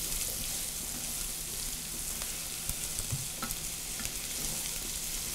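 Chopped onions and celery sauté in a pan for bread stuffing, giving a steady, close sizzle with scattered crackles and pops, and no talking.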